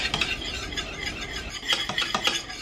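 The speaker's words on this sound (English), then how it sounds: "we're going to start whisking again like crazy" A whisk scraping and clicking against a pot of homemade pudding cooking on medium heat, a steady brisk rattling stir with sharper metallic strokes toward the end.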